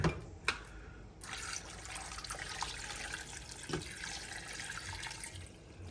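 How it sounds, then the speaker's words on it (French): Water pours steadily from a tap to cover couscous ingredients in a pot, a continuous close splashing fill with a few brief knocks. "je remplis et je recouvre tout ça d'eau"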